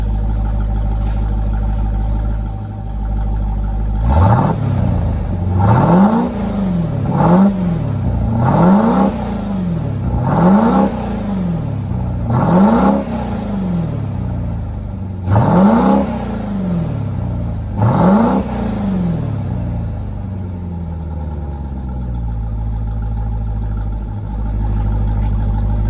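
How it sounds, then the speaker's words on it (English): A Jeep Grand Cherokee Trackhawk SUV with its mid muffler deleted idles, then revs sharply to about 4,000 RPM about eight times in a steady rhythm, exhaust rumbling loudly before settling back to idle. "Let me do a couple quick revs."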